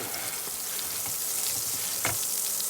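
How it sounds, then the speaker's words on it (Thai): Curry paste stir-fried in hot oil for a spicy catfish and pickled bamboo shoot dish, a loud steady sizzle with scattered scraping stirs close by and no talk. "ใส่พริกแกง ผัดค่ะ"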